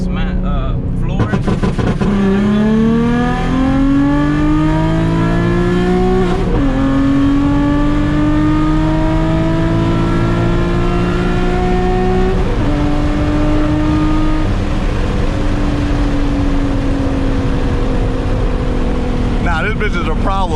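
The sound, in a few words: tuned E85 Nissan 350Z accelerating hard at full throttle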